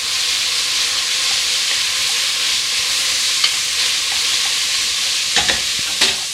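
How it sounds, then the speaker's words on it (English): Vegetarian chili frying in a pot, being stirred: a steady close sizzle and hiss runs throughout, with a few sharper spoon scrapes and clinks near the end. "Here we go, give it another stir."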